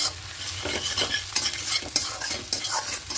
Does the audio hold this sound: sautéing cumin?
yes